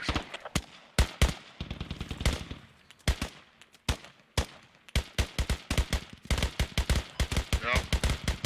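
Gunfire in the military shooter Squad, with sharp individual rifle cracks and short rapid bursts at irregular intervals, some close and punchy, others quicker and clustered toward the end.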